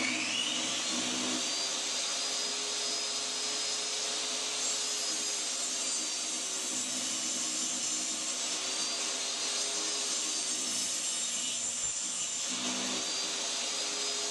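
Power saw ripping 1x4 boards down to 2.5 inches wide for cabinet doors, a loud steady whine running unbroken through the whole stretch, with brief dips where the blade eases between passes.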